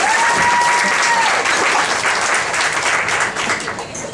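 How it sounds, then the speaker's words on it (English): A stand-up comedy club audience at Bonkers in Orlando breaks into loud, steady applause, many hands clapping in a continuous wash that slowly tapers off toward the end. "No, don't clap for that."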